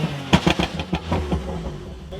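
A BMW F80 M3 with a stage 2 tune and upgraded exhaust lets out a quick series of sharp, punchy exhaust pops and crackles close by, bunched at the start and then fading into a low engine rumble.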